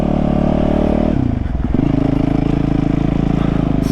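A dirt bike engine, ridden by a street rider trying off-road riding for the first time, drones loud and close, dips briefly under a rattling clatter, then holds a steady throttled roar.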